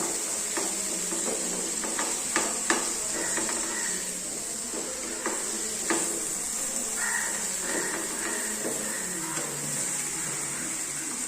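Chopped brinjal curry mixture is stirred in a hot pan. Repeated close scrapes and soft clacks of the spoon sound over a constant sizzling hiss.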